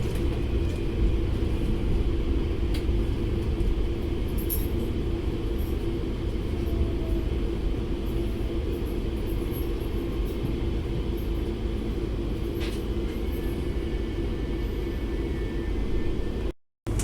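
An Auckland Western Line commuter train rolls into Baldwin Avenue station with a steady, continuous rumble and hiss from inside the carriage, a faint squeal of brakes rising briefly, before the sound cuts off abruptly at the end.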